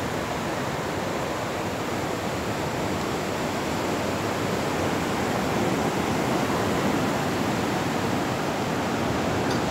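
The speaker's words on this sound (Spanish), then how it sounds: "Pueden observar las olas." Ocean waves at the pier of Puerto de La Libertad, El Salvador, at low tide, heard as a steady, dense broadband wash of surf with no clear individual breaks, continuous and fairly loud throughout.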